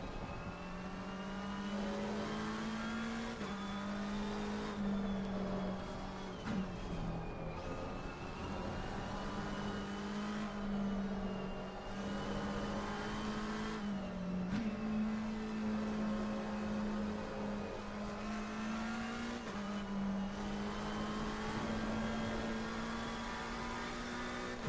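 Race car engine in a sim racing video game, a steady droning tone that rises and falls repeatedly through gear changes, sustained and even throughout with no talking.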